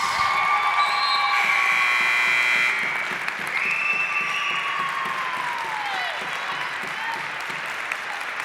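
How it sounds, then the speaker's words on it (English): Crowd applause and cheering fill a basketball gym, loud at first with a buzzer-like tone over it, then settling into steadier clapping as the noise eases slightly. "we ask you please give a large round of applause to Amanda Lynch"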